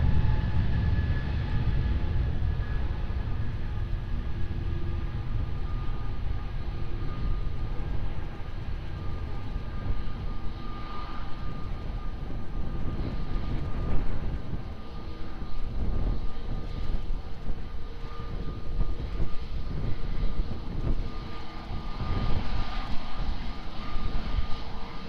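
Airliner taking off from runway 20 at Lisbon Airport, a steady broad jet engine roar heard from a distance throughout, with no talk.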